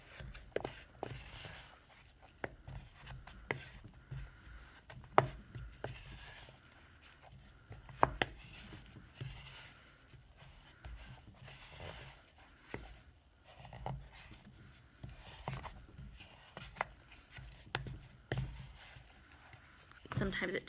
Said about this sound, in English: With your spoon, mash it with your spoon to get it to go together.